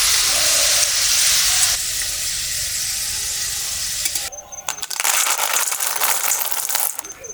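Lentils deep-frying in hot oil for dal chanachur, a bright steady sizzle and hiss with crackling bubbles, dropping briefly midway before resuming at full intensity, no talking.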